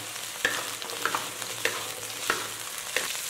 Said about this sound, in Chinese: 这个时候倒入煎好的面筋一起翻炒